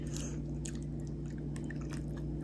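Close, quiet chewing and crunching of food during a meal in Kangirsuk, soft repeated bites and mouth sounds over a steady low background hum, with no talking.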